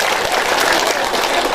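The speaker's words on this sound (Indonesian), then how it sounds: "Bu, tepuk tangan buat Cak Bebeng." Audience applause for Cak Bebeng at a lively Islamic religious gathering, a dense, steady patter of many hands clapping throughout, close and loud.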